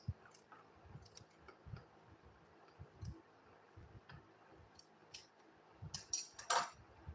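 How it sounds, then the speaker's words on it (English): Scissors snip through school bag material in quiet, irregular cuts, with soft clicks and rustles spaced out over several seconds and a few sharper snips near the end. "the next thing I will do now is to go ahead and cut it out"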